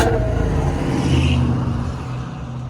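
Ford Mustang V8 revving with its exhaust valves closed, a deep, muffled roar that holds steady and then tapers off slightly, close and continuous with no talking.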